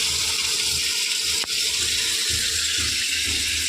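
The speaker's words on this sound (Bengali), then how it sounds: "এবারে এগুলো একটু ঠান্ডা জলকে ধুয়ে নেবো।" Soybean chunks rinsed under cold running water in a kitchen, a continuous, fairly loud stream of water with a brief splash partway through.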